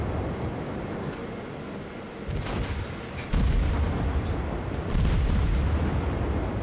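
Warship guns fire in a naval video game during a cruiser engagement, with a few sharp distant booms over a constant low rumble of engine and sea noise, the rumble swelling louder partway through.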